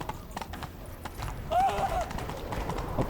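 A horse in The Witcher 3 video game is urged into a chase. Hoofbeats clop steadily under a brief whinny, with game dialogue and commentary speaking over them.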